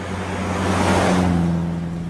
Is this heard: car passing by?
yes